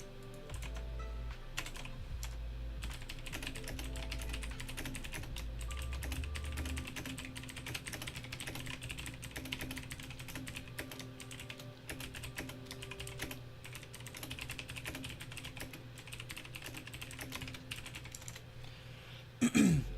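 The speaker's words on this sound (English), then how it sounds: "as I was typing just now" Continuous typing on a computer keyboard during a live stock market charting session, steady clicking keystrokes throughout at moderate level over a faint hum, with a brief louder bump near the end.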